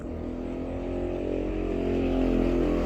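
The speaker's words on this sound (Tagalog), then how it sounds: "Naminaw ka arong motor na?" A motorcycle engine runs steadily close by, a loud continuous low drone that rises slightly toward the end, with no voices.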